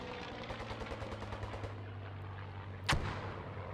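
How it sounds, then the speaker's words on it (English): Strafing run of gunfire in a tactical multiplayer video game, many rapid muffled impacts rolling together under a steady low drone, then one sharp loud crack near the end. "Strafes being called in."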